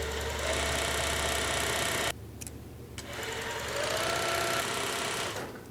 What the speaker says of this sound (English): engage the bobbin winder. Make sure your presser foot is lifted as you hold back the thread and wind the bobbin.